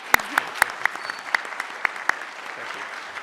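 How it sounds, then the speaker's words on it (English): Sparse applause from a conference audience for presenting researchers, a handful of separate sharp claps spaced out over a few seconds against quiet room tone. "let's give them one more round of applause"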